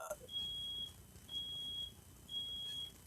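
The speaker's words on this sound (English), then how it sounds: "I don't know if you heard the smoke alarm going off" Smoke alarm beeps three times in a slow, even rhythm, each tone long and shrill, faint and somewhat distant over room noise.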